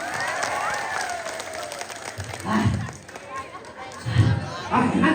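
An audience at a Balinese drama gong performance claps and murmurs, with a softer spell of clapping early on, then louder bursts of crowd noise and voices breaking through in the latter half.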